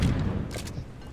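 An explosion in the first-person co-op mining game Deep Rock Galactic, a loud booming burst followed by a brief crackling blast, with no talking.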